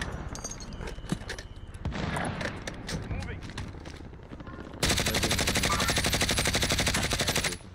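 Video game gunfire sounds in scattered shots, then a sustained rapid automatic burst near the end, with a voice speaking over parts of it.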